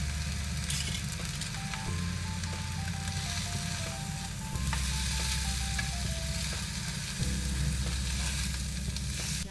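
McRib patties fry in a hot pan with a steady, loud sizzle lasting throughout, crackling evenly without pauses; a faint stepped tone drifts in the background alongside it.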